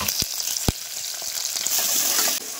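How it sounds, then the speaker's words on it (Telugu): Chopped onions hit hot oil in a pan for mutton curry, giving a loud close sizzle with a couple of sharp clinks at the start and a steady hiss after. "సో ముందుగా తరిగి పెట్టుకున్న ఉల్లిపాయలు అయితే వేయాలి."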